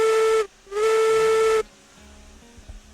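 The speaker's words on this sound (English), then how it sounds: "it sounds like the whistles just changed" Steam locomotive whistle in the railroad game RailRoads Online sounds two loud blasts, a short one then a longer sustained one, each stopping abruptly, followed by low rumbling hiss.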